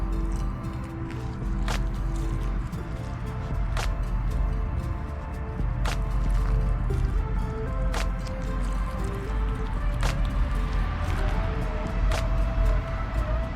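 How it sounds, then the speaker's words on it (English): Water is poured over potted plants in a farm garden and drains through the soil, making a continuous close rushing wash with faint, regularly spaced drips and clicks. "You're gonna start seeing your water drain."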